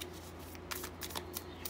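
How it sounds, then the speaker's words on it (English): Divination cards are being shuffled, a faint, close riffling of soft slaps and swishes in quick irregular bursts over a low background hum. "If you are having cards fly out while you're shuffling, sometimes they're not for you"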